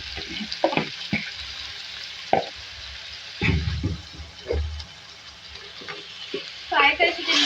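Boiled beef frying in a pan, with scattered stirring scrapes and bursts of sizzle, close by, alongside a little running water and faint sounds of someone moving about.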